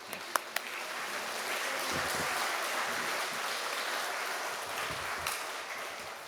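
A church congregation at an evening worship service applauds as a guest speaker comes forward. The clapping is a broad, continuous wash of many hands, fairly distant, with a few sharper claps near the start.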